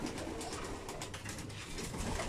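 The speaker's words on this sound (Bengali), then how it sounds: "এটা কোনটা, কোন কবুতরটা?" Pigeons cooing in a loft where eggs are kept, a soft steady murmur of low calls over a constant background, with no talking.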